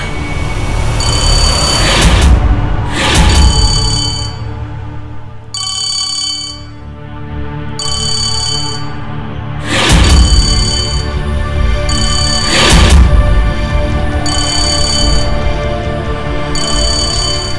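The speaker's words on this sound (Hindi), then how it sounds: "सांझ फोन उठा।" A telephone rings in a repeated electronic pattern of short bursts, loud and close, with a low rumbling background beneath it and no voices.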